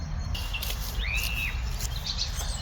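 Blackbird song outdoors in damp weather, with a few short whistled phrases and chirps rising over a steady low rumble of background noise, moderately distant.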